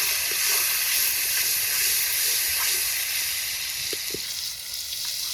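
Chopped tomatoes with salt sizzle and hiss steadily in a hot pan while being stirred for a Bengali potato curry, a continuous close frying noise with a few faint scrapes and no talk.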